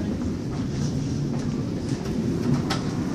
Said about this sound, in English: It's the big Metro North train to Port Jervis at the new, at the Hoboken train station.